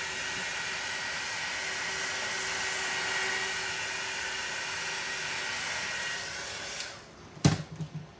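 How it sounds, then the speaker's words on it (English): Heat gun blowing a steady, loud whooshing stream of air over a glitter tumbler for several seconds, then cutting off, followed by a few brief knocks and handling noises. "hit it with the heat gun again to get it moving downwards"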